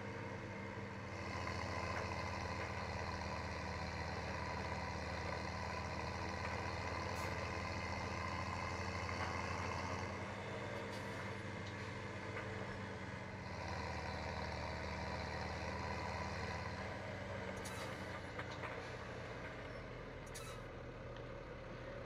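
A tractor idles in Farming Simulator 2017, a steady low engine drone held for a long stretch with faint hissing bursts, quiet and without talk.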